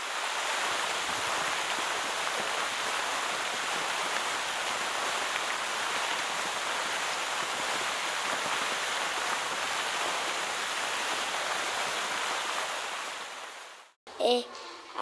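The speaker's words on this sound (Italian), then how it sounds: "Ad un certo punto trovano una grande cascata." A large waterfall roars as a steady, dense wash of falling water that holds loud and unbroken for about fourteen seconds, then cuts off abruptly and gives way to a brief, uneven scrap of other sound.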